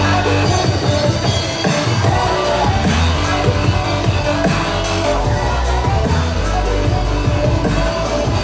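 Dense, driving electronic dance bootleg remix with a steady thumping beat and layered synths, loud and continuous throughout with no voices.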